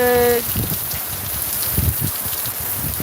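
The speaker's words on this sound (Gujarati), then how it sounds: "વરસાદ વરસાદ ધમાકેદાર વરસાદ ચાલુ થઈ ગયો છે" Heavy rain pours in a constant, loud hiss with low thumps of drops striking nearby, after a brief tonal sound fades at the start.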